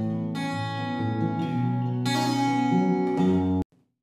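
Acoustic guitar recorded in Logic Pro with EQ applied rings out in bright, sustained strummed chords, close and even, ending abruptly after about three and a half seconds.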